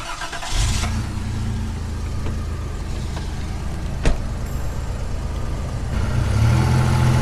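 A second-generation Toyota 4Runner engine turns over and rises into a revving drone held against the brakes, with a sharp knock midway and a louder swell of revs near the end.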